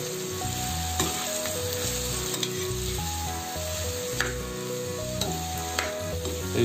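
Tempering sizzles steadily in hot oil for boiled potato bhaji, with stirring scrapes now and then, under a continuous melodic music track and no talking.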